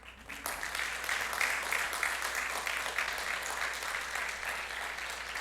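A church congregation breaks into sustained applause that swells quickly and holds steady, a dense, fairly distant wash of clapping in a large room.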